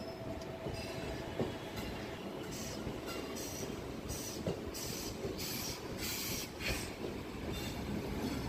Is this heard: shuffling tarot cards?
no